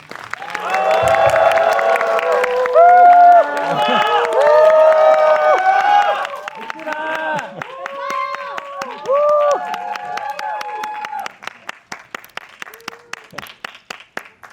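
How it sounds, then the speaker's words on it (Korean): A cinema audience at a pre-screening stage greeting claps and cheers loudly over a stretch of bright tonal music, the applause thinning into scattered claps near the end. "박수와 한호 크게 부탁드립니다"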